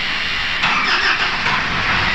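A Mitsubishi Pajero's 4D56 diesel engine, recently overhauled and puffing white smoke, cranks and catches from cold, a close broadband rumble swelling briefly as it fires, with no voices.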